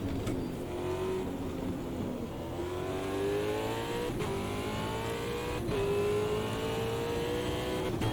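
A Super V8 race car engine in Automobilista 2 at Bathurst revs continuously. Its pitch climbs in repeated gear-by-gear sweeps, with brief dips at each shift, and it stays loud and close with no talking.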